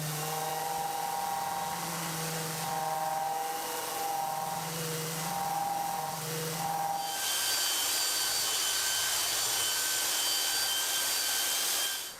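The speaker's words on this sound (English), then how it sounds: "the answer is maybe a rough bit of sandpaper" Rough sandpaper rubbed back and forth over the edge of a hardwood edge-banded plywood drawer, steady scratchy strokes up close, turning into a continuous harsh scraping hiss in the second half.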